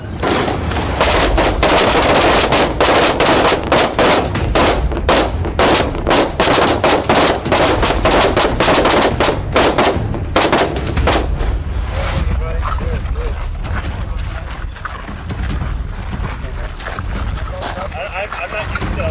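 A rifle fires five timed shots from a kneeling position on a shooting range. The shots come as loud, sharp cracks, and voices are heard around them.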